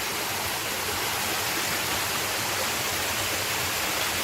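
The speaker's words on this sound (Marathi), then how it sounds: "हे बघा वॉटरफॉल आहे म्हणजे जंगलामध्ये आहे" A hidden jungle waterfall in the Konkan region roars in a dense, unbroken hiss of falling water, steady and fairly loud from start to finish, with no other sounds rising above it.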